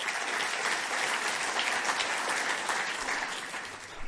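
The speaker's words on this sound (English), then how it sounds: "Let's give him a quick round of applause." An audience at a climate-action event gives a dense, continuous round of applause, many hands clapping at once, steady and loud throughout before tapering slightly at the end.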